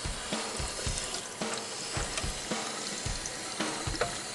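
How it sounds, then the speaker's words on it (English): A computer keyboard is rinsed under a sink tap, giving a continuous hiss of running water with intermittent splashes and plastic clatter as it is moved in the stream. "I'm just gonna rinse it out and hope for the best."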